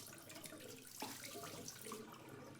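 Film developing chemical pours out of a developing tank into a sink, a steady continuous splashing wash of liquid at moderate level with no talk.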